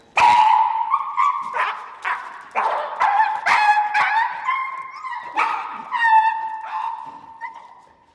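A dog barks, yips and whimpers close by during a heel and reactivity training session, a series of sharp, loud, excited bursts that fade toward the end.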